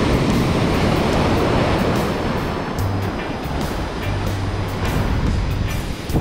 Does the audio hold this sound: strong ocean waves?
yes